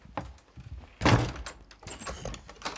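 Hand banging on a closed door, one heavy thud followed by lighter knocks and rattles, close and sharp amid faint background sound.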